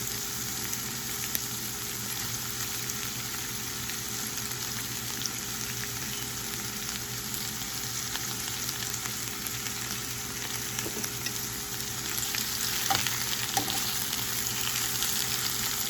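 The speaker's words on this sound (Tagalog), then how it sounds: "Lutuin natin yung kamatis at sibuyas." Chopped tomatoes and onions sizzle steadily in a hot pan, a continuous close frying hiss with occasional faint clinks and stirring toward the end.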